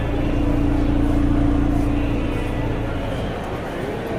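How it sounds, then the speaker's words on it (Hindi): Rumbling engine and exhaust of a 2021 Audi S5 Sportback with dual exhaust, idling steady and close with a low drone, under faint background voices. "गाड़ी काफ़ी स्पोर्टी साउंड कर रहा है. डुअल हेडी है एग्जॉस्ट, काफ़ी मज़ेदार साउंड है."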